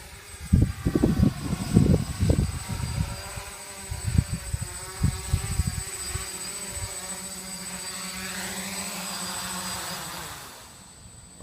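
A Tom X450 drone hovering, then flying in to land, gives a steady insect-like whine with layered rotor harmonics. The pitch sweeps as the drone turns, under bursts of wind buffeting, and the sound fades out near the end.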